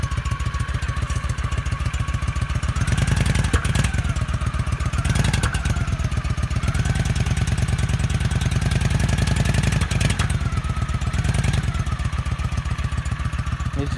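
A 25-year-old Honda Shadow A.C.E. 1100 motorcycle idles from a cold start with no choke, a steady close, loud rhythmic engine thump with slight revving swells.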